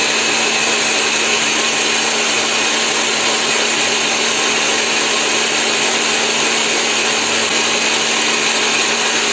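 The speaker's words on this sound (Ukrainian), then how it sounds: "Даємо 4 білка, щіпку солі і так само збиваємо до рихлого снігу." A loud, steady electric mixer whir whipping four egg whites with a pinch of salt, running continuously without pause, close by, with no voices.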